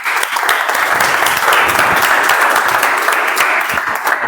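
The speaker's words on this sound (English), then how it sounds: "I would like you all to give a round of applause" Meeting audience gives loud, close, dense applause to welcome the presiding officer, steady sharp clapping filling the whole stretch without talk.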